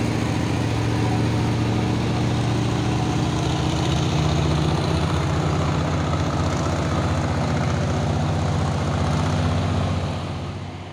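An orange Fuso tronton truck's diesel engine drones steadily and loudly at a constant pitch, close by, before easing off slightly at the very end, with no voices.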